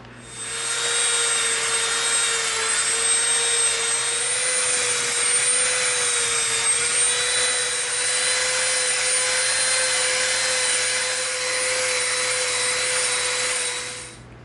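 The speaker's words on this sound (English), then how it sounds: "we've got our Dremel, got our dust mask on." Dremel rotary tool sanding EVA foam, a loud, close, steady high-pitched whine that holds for about thirteen seconds, rising at the start and dropping off at the end, with no talk.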